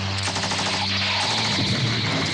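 Rapid gunfire from the small handguns of the Autons in the classic Doctor Who serial Terror of the Autons, a dense continuous burst of shots and small explosions over a low steady hum, loud and alone without talk.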